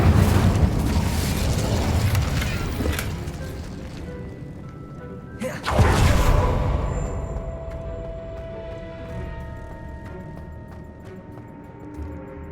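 A fire spell cast in the video game Hogwarts Legacy: a dense roaring burst of flame with a sharp whooshing flare midway, then a fading crackle and ringing tones as the fire dies down.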